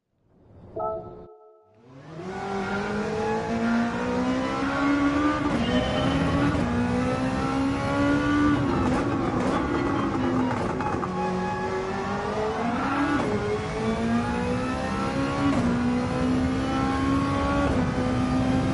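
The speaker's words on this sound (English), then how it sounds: "Oh yeah, this might be a better car. She's got way more acceleration." Race car engine in Gran Turismo 7 revving hard and accelerating through gear changes, a loud continuous close roar rising in pitch, dropping briefly at shifts, then climbing again, with no talk over it.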